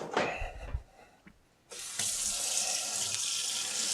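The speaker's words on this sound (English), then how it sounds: "then I'll like rinse it off in the sink" Coffee brush rinsed under a kitchen sink tap, a few close knocks and clatters, then the faucet opens into a loud steady rush of running water.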